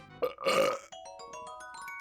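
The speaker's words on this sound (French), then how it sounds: "Et un petit rot en plus" One short, loud, throaty burp from a person close to the microphone, then game music plays on alone.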